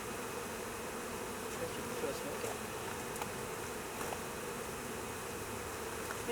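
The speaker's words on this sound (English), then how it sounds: "I'm going to pick you all back up and put you back in your beehive." Honeybees buzzing around an open beehive during a colony split, a dense continuous hum from many bees, fairly close and steady with no talk.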